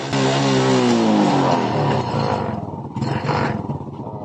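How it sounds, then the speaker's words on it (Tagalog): Close, loud engine of a second-hand Suzuki Smash 115 motorcycle with a low-charging battery, idling briefly and then being revved in rising and falling bursts, with no speech over it. "Umandar na ating motor at i-rave natin kung goods ba"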